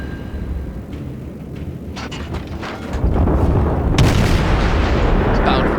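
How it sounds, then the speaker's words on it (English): Heavy naval guns of a battleship booming in the World of Warships game, a broad low rumble swelling near the three-second mark and a sharper blast around four seconds over continuous engine and sea noise. "That sounded like a battleship"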